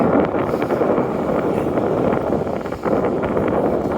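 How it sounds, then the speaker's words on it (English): Strong wind buffets the microphone on the Macdonald Bridge over the harbour, a loud, continuous roaring gust with a brief lull near the end and no talking. "Very windy up here."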